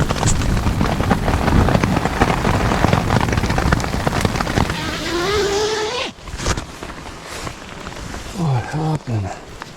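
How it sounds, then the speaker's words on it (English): Heavy rain and hail from a thunderstorm drum steadily on a surface close by, with a loud, dense patter throughout and a few tonal whines near the end. "Massive thunderstorm and hail."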